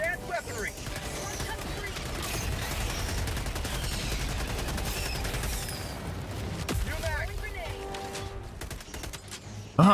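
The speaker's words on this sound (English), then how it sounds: "I'm calling in a machine gun." Sustained automatic machine gun fire in a Helldivers 2 bug battle, dense and continuous rapid bursts over roughly ten seconds, with a voice speaking over the shooting and a louder burst at the end.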